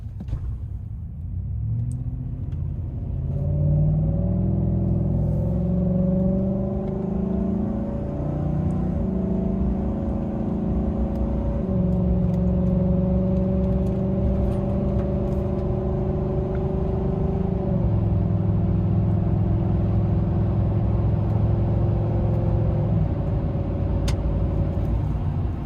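A 2019 Chevrolet Silverado fitted with a cold air intake and aftermarket exhaust roars as it accelerates hard onto a highway, its engine note climbing steadily through gear changes, loud and close from the cabin with no talk.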